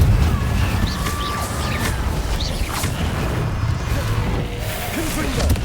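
Incendio fire spell in Hogwarts Legacy, heard as a dense, continuous crackling roar of flame with crashing, whooshing bursts layered over busy game sound effects and some chirping.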